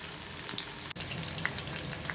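Chicken pieces frying in oil for chili chicken, a soft continuous sizzle with faint pops and a brief dropout partway through.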